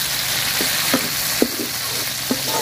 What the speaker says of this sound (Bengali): তো শুটকি পেঁয়াজ রসুন আমি সুন্দর করে ভাজা নিচ্ছি